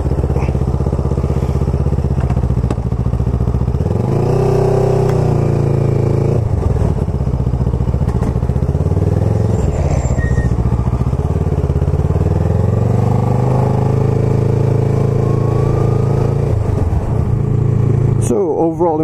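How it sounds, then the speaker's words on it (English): A 2016 Kawasaki Ninja 650 (ER6F) with an aftermarket Scorpion exhaust is ridden, a loud close engine drone that rises and falls through gear changes for nearly twenty seconds, mixed with wind rush. "you can hear the noise as well from this new Scorpion exhaust"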